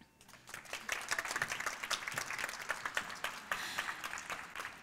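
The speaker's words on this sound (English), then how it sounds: "Round of applause for yourselves." An audience at a book awards event gives a round of applause, a fairly faint but steady patter of many hands swelling after a quiet start and continuing to the end.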